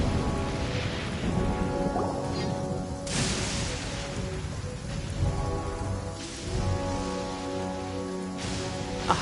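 Heavy downpour in Genshin Impact, a steady wash of rain with a few louder bursts, layered over soft background music and continuing for the whole stretch.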